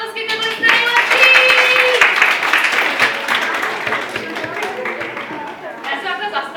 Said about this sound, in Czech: Holky a kluci, pořádně se zatleskejte, byli jste nejlepší!